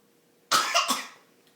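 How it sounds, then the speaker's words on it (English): A child gives a short burst of two or three quick coughs, close by, fading out after about a second. "Cover your cough."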